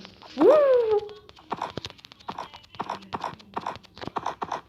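After a brief loud bray-like call, a video game donkey's light hooves clip-clop in an uneven, steady patter, close and moderately loud.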